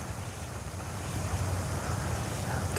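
Flowing water at an outdoor fishing spot, a steady broadband rush with low rumble, continuous and fairly close, alone without talk.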